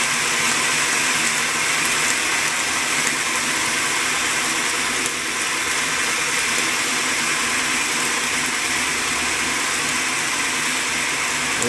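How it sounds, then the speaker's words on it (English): A model steam engine runs steadily, giving a continuous hissing, rushing sound of escaping steam with a faint mechanical churn beneath, close and even throughout with no voices. "The first engine running in the virtual steam engine."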